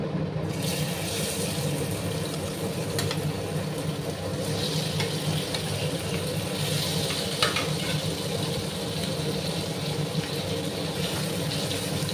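Shrimp frying in a pan, a steady, fairly loud sizzle with a few light clinks, no talking.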